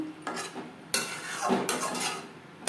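Okra curry with added water stirred in a pan for a vegetarian bhindi dish, a series of metal spoon scrapes and clanks against the pan, close and uneven, no talk.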